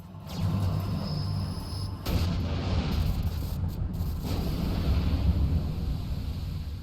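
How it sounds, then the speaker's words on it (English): Final blast of the Cancer Zodiark summon in Final Fantasy 12: a sustained, loud, rumbling low roar that holds steady for several seconds, with a brief whooshing swell partway through and no sharp impact. "the big final blast feels pretty anticlimactic in comparison"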